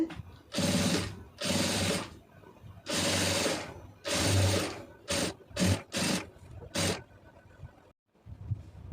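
Domestic sewing machine stitching cross pieces of blouse fabric in repeated bursts, several long runs followed by shorter quick ones, close and loud with brief pauses between.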